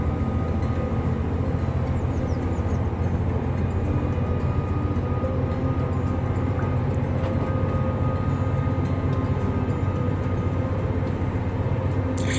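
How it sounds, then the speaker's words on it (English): A train in the simulation game Train Life rumbles with a steady, loud low drone, a constant rolling engine and wheel noise that holds unchanged throughout, with no talking. "that train should start moving eventually"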